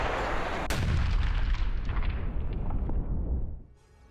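Artillery shelling on front-line positions in southern Donetsk, a sharp blast followed by a long rolling rumble and crackling echoes that fade out after a few seconds.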